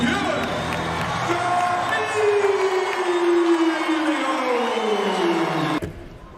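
A college wrestling crowd at the Covelli Center rises with loud, sustained cheering and whoops during a Big Ten dual, Pittsburgh at Ohio State, roaring for several seconds before dropping off sharply at the end.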